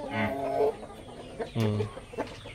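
A Dong Tao rooster on a farm gives two short, throaty calls close by, with a brief pause between them.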